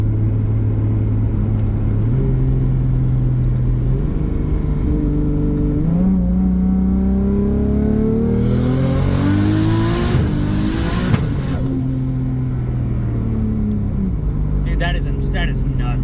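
A 2JZ-engined Nissan S14 with an 8HP70 automatic transmission revs loudly and climbs through quick gear shifts, the engine note rising in repeated sweeps, with a brief burst of hiss near the end.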